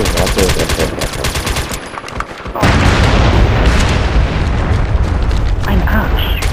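A rapid burst of gunfire-like pops gives way to a loud booming explosion at a bunker in the video game MAG, rumbling on with crackling debris.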